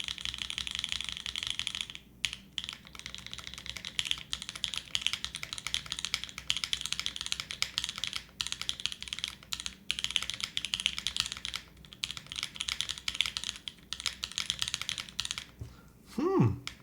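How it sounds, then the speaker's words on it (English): Steady typing on an Alice-layout mechanical keyboard, crisp clacky keystrokes in quick irregular bursts with brief pauses, close and clear with no talking. "This is a clean sounding Alice board."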